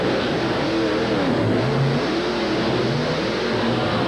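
A 1990 Ford monster truck, the Outlaw, revs its big engine hard on a qualifying run at a Myrtle Beach monster truck challenge, a loud continuous roar with rising and falling pitch sweeps and no voices.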